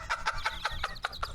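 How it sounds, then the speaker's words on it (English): A bird calls loudly seven times in quick, even succession, each call a short bright burst repeating about five times a second, close and clear over a faint low background hum. "Yeah, the birds are so loud."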